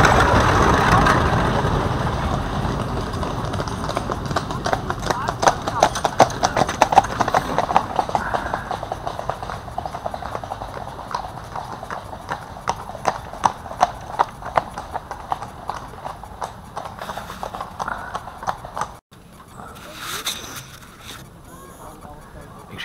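Horse-drawn carriages pass through coastal dunes, hooves clip-clopping steadily and fairly close with wheel rumble and a faint engine beneath, fading somewhat toward the end.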